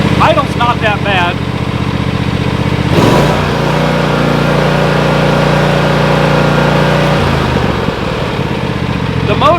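A Cub Cadet Ultima ZT1 zero-turn mower engine is started and idles loud and steady with a constant droning hum, then the pitch shifts slightly, while a voice talks briefly at the start.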